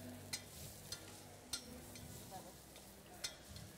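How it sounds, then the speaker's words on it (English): Minced garlic stirred in a pot over heat, with quiet scraping and a soft sizzle running throughout and a few sharp clinks of the spoon against the pot's side. "Just gonna stir that through."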